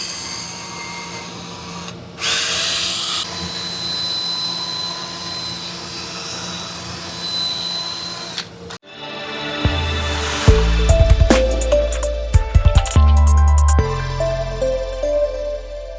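A drill fitted with a medium cut polishing cone works on a vehicle wheel, a steady high whine that drops out briefly, then returns with a rougher grinding buzz and sharp clicks as the cone bites the surface.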